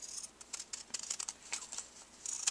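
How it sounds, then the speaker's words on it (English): Scissors snip through paper while trimming pieces for a paper-pieced quilt block, a run of quick, crisp close-up cuts that repeat irregularly across the clip and end in a louder snip. "If I have my scissors, I can just use them."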